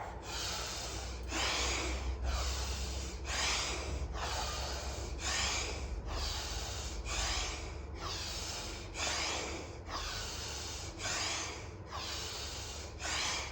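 Deep yoga breathing, slow rhythmic cycles of loud, close inhales and exhales roughly every second, steady and unbroken with no talking.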